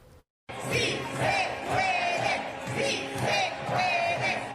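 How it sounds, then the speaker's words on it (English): Protesters at a downtown Los Angeles rally shout in unison, a crowd chanting in rhythmic repeated bursts, loud and sustained, after a brief silent gap at the start. "A crowd of protesters gathered in downtown Los Angeles for a fourth day of rallies and unrest"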